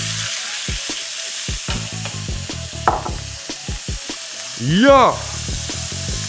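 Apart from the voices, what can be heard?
oil sizzling in a hot pan for searing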